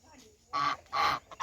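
Two loud, harsh duck calls close by, each about a quarter second long, followed by a couple of shorter squawks.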